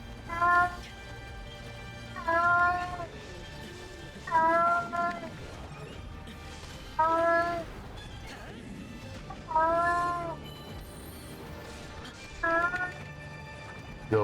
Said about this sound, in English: Again, yes, the cat is in heat.